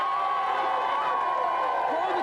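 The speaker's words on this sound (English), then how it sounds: "Give them a cheer." A television game-show studio audience cheers and applauds in a dense, steady roar that holds loud throughout the short moment.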